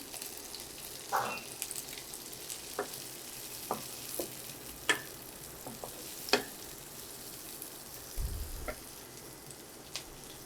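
Strips of chopped carrot fry in a pan for a vegetable patisapta pitha filling, with a faint sizzle under occasional spatula clicks and scrapes and a low bump near the end.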